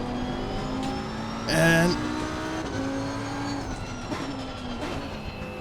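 Race car engines roaring off the line in Assetto Corsa Competizione, a steady droning pack of motors with one rising whine as cars accelerate, under a voice.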